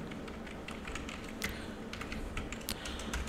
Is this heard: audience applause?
no